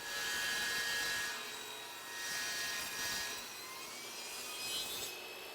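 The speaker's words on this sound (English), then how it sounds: "Start your saw and feed the panel through, pressing it against the fence." A table saw makes a bevel cut through a wooden panel for panel raising, a loud sustained whine with a roughening grind as the blade bites, swelling and easing as the wood is fed through.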